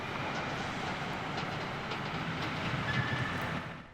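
Outdoor city ambience with a steady airy rumble and hiss, traffic-like or rail-like wash at moderate distance, broadband and continuous before fading out at the end.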